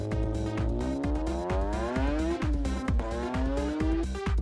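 Cars, including Volvos, drift at a competition with a loud, continuous engine roar and repeated rising-and-falling pitch sweeps as they accelerate and slide, with tire squeal mixed in.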